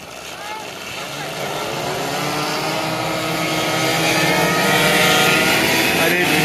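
Motorbike engines revving and struggling to start on a Joe Bar Team style moped, a loud droning whine that swells steadily over several seconds, with voices shouting over it.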